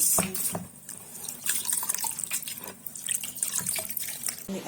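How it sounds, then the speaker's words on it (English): Liquid from cooking afang soup pours and drips through a kitchen sieve, giving close, irregular splashing and trickling throughout with no talk. "So I'm going to transfer into a sieve now."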